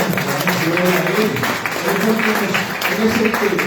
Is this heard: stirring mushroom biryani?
no